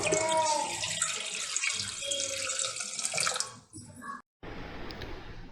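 Tap water pours into a cooking pot in a home kitchen while a curry is being made, a bright hissing stream running for several seconds, cutting off briefly, then resuming more softly.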